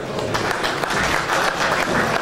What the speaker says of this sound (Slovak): Samozrejme ho odmeníme potleskom.